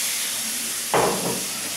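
Shrimp dropped into a very hot frying pan with butter over high heat, giving a sudden loud sizzle that flares up and then settles into a steady hiss.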